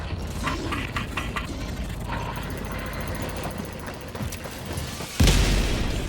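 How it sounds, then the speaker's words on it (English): Orbital barrage in Helldivers 2 pounding down, a deep boom slamming in near the end after a stretch of rumbling mechanical battlefield noise and distant thuds. "I called in some serious weaponry to protect me while I terminated the broadcast. Orbital barrage incoming."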